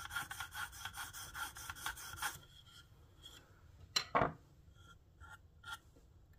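Pen knife edge honed on a KME sharpener: a quick run of rhythmic rasping strokes, then quiet with faint clicks and a sharp metallic scrape.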